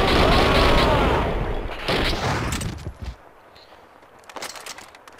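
Dense bursts of automatic gunfire ring out in a Max Payne 2 firefight at the Cleaner's headquarters, loud and rapid for about three seconds, then trailing off into scattered quieter shots and footsteps.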